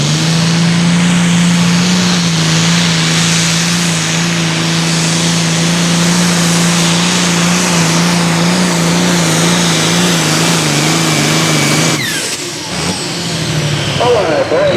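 Heavy engine of a pulling truck called Thunder Truck roars loud and steady during a run at a farm tractor pull in Huntland, Tennessee, with a public-address voice talking over it.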